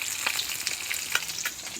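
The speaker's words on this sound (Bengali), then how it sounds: "আর এখানে মাছগুলো ভাজছি।" Fish sizzles steadily in a pan for a home meal on a rainy day, with a few stirring scrapes rising briefly above a constant close, hissing frying noise.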